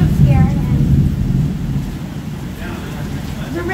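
Warm rain pours steadily during a Songkran water festival in Penang, Malaysia, a dense rushing wash with low rumbling, while people talk and exclaim over it.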